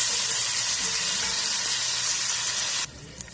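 Frozen vegetables and bacon sauté in a pan with a loud, bright, continuous sizzle and hiss. The sound drops sharply near the end to a softer crackle, with no talking.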